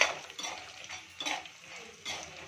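Spoon scraping and clinking through a tamarind rice mixture in a pan, in a few separate bursts of stirring, close and fairly quiet.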